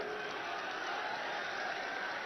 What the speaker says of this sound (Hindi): माननीय प्रधानमंत्री जी का तालियों की गड़गड़ाहट के साथ हम सब लोग स्वागत करते हैं।